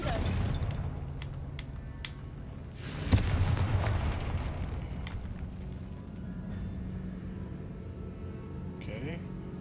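A Confringo fire spell goes off in Hogwarts Legacy, a sharp blast with a rumbling burst partway through, amid ongoing game noise and some speech.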